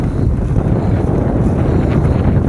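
Strong wind buffets the microphone in a steady, loud rumbling roar, with no voices, on a small bridge during a bicycle trip in France.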